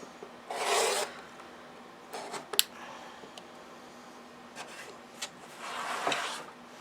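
A rotary cutter slices through quilting fabric on a rotating mat, with two longer rasping strokes at the start and end and a few short scrapes and taps between.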